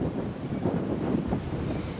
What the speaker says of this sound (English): another gust of wind coming in from the west.